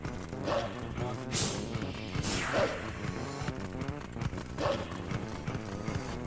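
A horse gallops in Zelda: Twilight Princess, its hoofbeats a steady clip-clop rhythm that swells louder at a few points over a dense mix of game sound.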